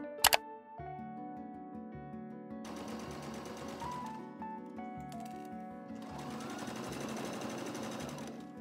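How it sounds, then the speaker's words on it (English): A serger finishes the seam on a pair of pants sewn from curtain fabric, running in two close, rapid mechanical bursts after a brief click, steady and moderately loud with no talking. "I serged that to finish it"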